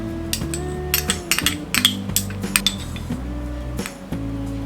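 A spoon clinks and scrapes against a bowl while flour, red chili powder, salt and ginger garlic paste are stirred together for chili idli batter: a quick run of light, close metallic taps over steady background music.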